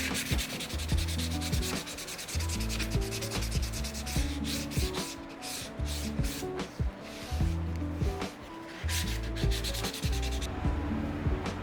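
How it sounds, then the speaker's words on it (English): Sandpaper rubbed by hand along the edges of a wooden plant propagation station, in dense continuous strokes that sound loud and close for the whole stretch, with no talking. "I always like to hand sand the edges of my projects."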